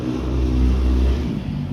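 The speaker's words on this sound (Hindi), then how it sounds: "भाई अच्छी बाइक हो तो भगाएगा अगला" A motorbike accelerates past a rooftop, its engine a steady, loud, low drone that swells and then eases slightly as it goes by.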